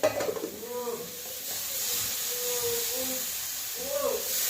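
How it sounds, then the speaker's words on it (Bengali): Spice paste frying and being stirred in a pan, with a steady soft sizzle and hiss running throughout and occasional scrapes. "মশলাটা ভালো করে কষিয়ে নেব।"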